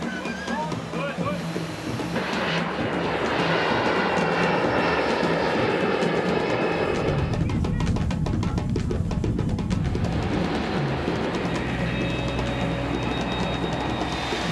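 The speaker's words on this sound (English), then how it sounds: "Kenyan beans travel by plane" Passenger airplane jet engines roaring loudly and steadily throughout, a broad continuous rumble with a rising whine as the aircraft carrying produce passes, no talk over it.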